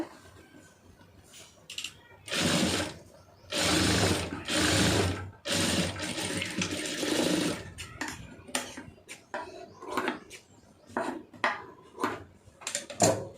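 A sewing machine stitches a blouse side seam in several short, rattling runs, followed by scattered clicks and taps from handling the machine and fabric nearby.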